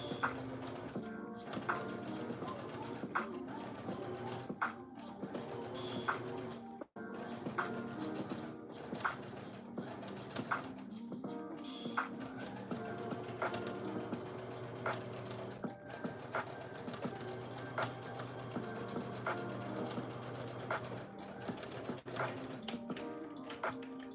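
A sewing machine top stitching a hoodie, a busy mechanical whir with quick ticking, clicking bursts running almost continuously and one brief pause, fairly quiet and alone.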